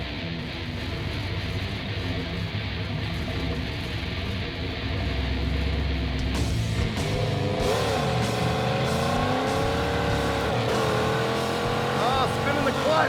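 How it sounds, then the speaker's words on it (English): A Trans Am launches hard down a drag strip at Sick Week, its engine droning loud and steady as the slipping clutch keeps it spinning through every gear, with the revs climbing and wavering over continuous road noise. "that was spinning the clutch through every gear"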